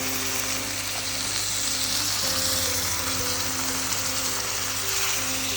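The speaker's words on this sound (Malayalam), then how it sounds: "നമുക്കിനി ഇതിലോട്ട് പാകത്തിന് വെള്ളം ഒഴിച്ചു കൊടുക്കുക" Water added to a sizzling tomato masala in a pan for a Kerala crab roast, a steady loud frying hiss and bubbling throughout with no talk.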